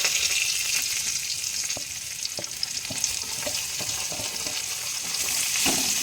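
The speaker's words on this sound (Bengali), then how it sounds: "আগে থেকে ভেজে রাখা আমি সব সবজি এখন দিয়ে দিচ্ছি ঘিয়ের মধ্যে" Vegetables frying in hot ghee for fried rice, a steady close sizzle filling the scene, with intermittent clicks and scrapes of a spoon stirring through the pan.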